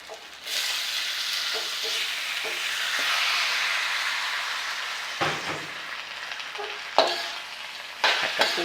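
Fresh shrimp stir-fried in a hot pan for a Southern Thai stink bean and shrimp paste dish, giving a steady broad sizzle with scraping stirs and a few sharp utensil knocks near the end, with no talking.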